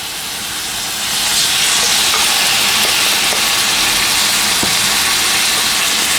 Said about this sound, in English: So I'm now going to add the meat to the frying pan with some olive oil in.